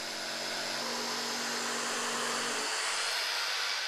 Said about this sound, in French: Donc ça, on va le découper à la scie sauteuse.